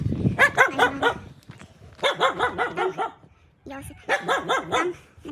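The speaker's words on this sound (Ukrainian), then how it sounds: "Що гавкаєш?" Domestic dog barks close and loud in three rapid bursts of several sharp barks each, with brief pauses between.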